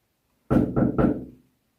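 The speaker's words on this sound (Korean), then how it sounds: "흉가에선 절대 노크를 하지 말아라." Three quick, loud knocks on a hollow surface inside an abandoned restaurant, evenly spaced and close by, ringing out briefly before fading into silence.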